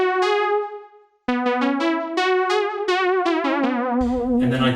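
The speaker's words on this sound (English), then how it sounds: "So what I did is I played the lead line on a smooth pad." Prophet 6 synthesizer lead line played with a smooth pad sound, a held opening note and then a quick melodic run of gliding, vibrato-tinged notes, loud and close, ending with a busier bright burst.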